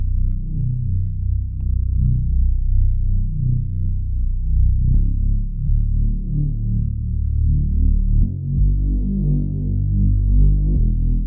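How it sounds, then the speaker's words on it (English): A deep, rolling drum and bass synth bassline throbs continuously in the low end, heavy and sustained with subtle pulsing shifts, playing alone without drums. "It's just a typical like drum and bass rolling bass."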